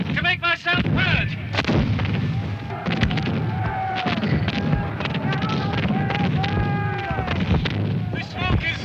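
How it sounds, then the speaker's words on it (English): Repeated heavy cannon blasts boom one after another in a dense, continuous barrage at the Battle of Culloden, with shouting voices mixed in. "That's Cumberland's cannon. Cannonades all around me."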